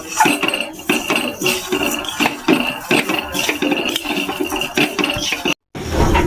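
A metal spoon clinks and scrapes steadily against a pan while stirring semolina halwa with mango, cashews and raisins over low heat, a busy run of close, bright rattling clinks with a brief pause near the end.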